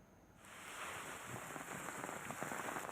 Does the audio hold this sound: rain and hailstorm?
yes